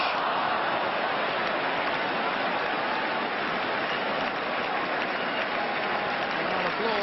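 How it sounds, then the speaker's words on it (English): Steady, dense applause from a large football stadium crowd at a 1983 Luton Town versus Aston Villa match, an even wash of clapping that holds at the same level throughout without a break. "Applause all around the ground for that Luton Town move"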